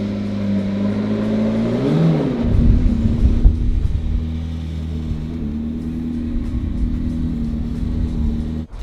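Cars, including a Bugatti Veyron, being moved around, a loud nearby engine rumbling steadily, one surge of revving around the middle, then settling back to a constant low drone.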